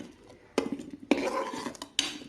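Hilsa fish pieces being mixed by hand with mustard paste, turmeric and mustard oil in a metal bowl, giving a few sharp clanks and scraping clatters with quieter stirring between them.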